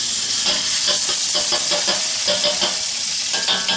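Garlic frying in a mix of sesame and canola oil, a loud close continuous sizzle and crackle with light stirring scrapes, alone with no voices.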